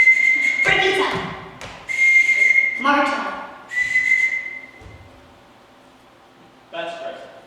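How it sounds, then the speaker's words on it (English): Sharp, shrill whistle blasts sound in a short series of distinct signals at a staged high-school production, with a voice speaking briefly between them. "I won't have to whistle for them"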